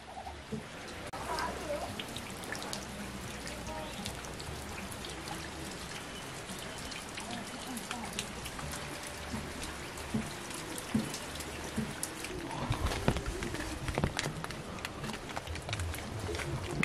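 Steady rain falls in a traditional village, a continuous close patter with trickling and dripping on surfaces, with faint voices and bits of talk now and then under the downpour.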